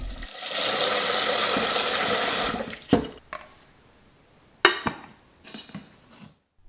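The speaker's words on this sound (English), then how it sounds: "This means rinsing it about 3 times until the water runs clear" Running water pours steadily over rice being rinsed for a couple of seconds, then stops, followed by a few brief splashes and clinks, close by.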